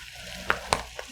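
Soy sauce and cooking wine seasoning for bulgogi is stirred in a small bowl, with three quick, light clinks of a utensil against the dish over quiet room tone.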